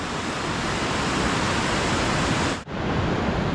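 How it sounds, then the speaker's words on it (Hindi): A river swollen after long rain rushes loudly near Ganganagar on a route to Kedarnath, a close, dense roar of water that stays steady apart from one brief dip. "लगभग काफ़ी टाइम से बरसात हो रही है तो नदी का जो पानी है वो काफ़ी ज़्यादा बढ़ चुका है।"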